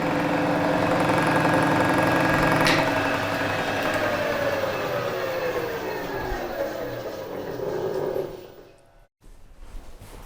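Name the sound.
milling machine cutting on Vevor HS225 tilting table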